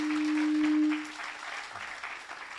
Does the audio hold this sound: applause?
yes